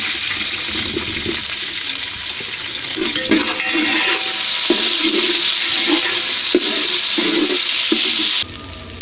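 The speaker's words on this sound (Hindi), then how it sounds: "इसी घी में हमने ये 2 अदद दरमियानी प्याज डालनी है।" Two medium onions sizzle and fry in hot ghee, a steady loud hiss throughout with soft stirring clunks breaking in at intervals, no voices present.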